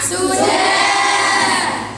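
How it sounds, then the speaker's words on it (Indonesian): A classroom of students clap together in a sustained, bright burst of hand claps mixed with youthful shouting, fading slightly at the end. "sudah berikan tepuk tangan semua"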